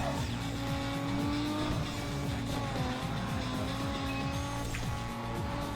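Racing car engine in Need for Speed Underground 2, a loud sustained roar with shifting revs, tire squeal and skidding through a corner, continuous and close throughout.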